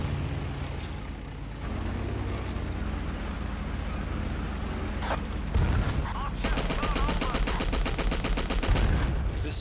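Battlefield 1942 battle noise: steady rumbling engines and ambient din under scattered shots, then a rapid burst of machine gun fire near the end, moderately loud.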